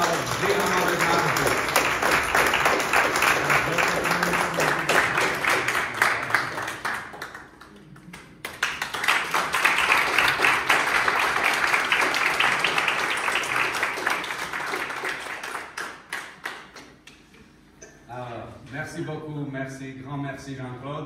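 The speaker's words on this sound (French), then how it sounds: "je vous applaudis comme vous le méritez tous" Applause from the audience at the AMAVET 2023 general assembly, dense clapping filling most of the stretch with a short dip midway, then fading as a voice begins talking near the end.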